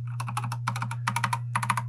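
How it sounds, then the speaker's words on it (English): Keys clatter on an Ajazz AK510 retro mechanical keyboard in quick clustered bursts of clicky strokes, close up, over a steady low electrical hum, with no talking. "It is a mechanical retro keyboard."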